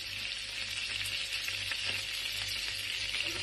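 Butter melting and sizzling in a pan at the start of cooking shrimp with garlic, a steady close-up crackle and hiss with low hum beneath, no talking.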